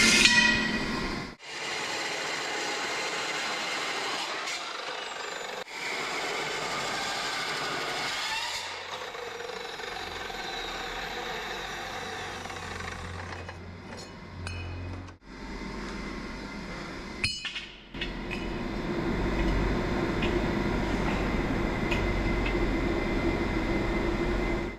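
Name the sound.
welding metal in a shop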